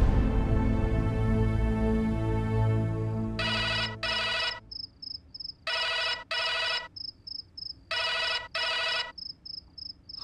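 A telephone rings in a Hindi TV drama scene, three pairs of sharp electronic trills separated by pauses, each followed by a thin high beep, clear and alone after low background music fades.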